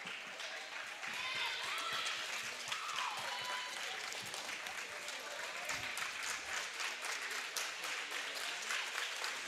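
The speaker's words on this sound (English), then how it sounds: "the crowd gets into it a little bit and gets kind of fired up" A crowd at a high school volleyball game between Wyndmere/Lidgerwood and Lisbon claps steadily in a gym, a dense sustained patter of applause with faint voices mixed in.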